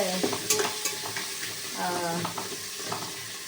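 Onions browning in oil for biryani, a steady sizzle with repeated scraping stirs of a spoon against the pan, close and moderately loud, with faint voice in the background.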